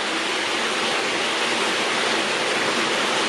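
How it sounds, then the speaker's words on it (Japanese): Heavy water gushing and spraying from leaking piping in a limestone cave area on a subtropical island, a loud, steady broadband rush with no breaks and no voices. "水がね、ギャンギャン漏れてるんですよ"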